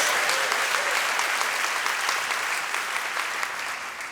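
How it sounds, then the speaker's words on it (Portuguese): Congregation in a church applauding steadily, a dense wash of clapping hands that fills the whole stretch at a fairly even level and eases slightly toward the end. "Dá uma salva de palmas ao Senhor"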